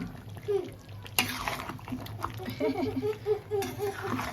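Chicken curry with capsicum stirred in a pan, a spoon scraping and clattering against the metal over soft frying, with voices and light laughter in the background.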